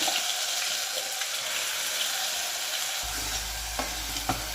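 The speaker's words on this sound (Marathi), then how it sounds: "तेल छान गरम झालेलं आहे, आपण त्याच्यामध्ये मसाला टाकून घेऊया।" Masala spices fry in hot oil for a village-style egg curry, giving a steady, close, bright sizzling hiss with faint stirring ticks and a low hum joining partway through. No one speaks.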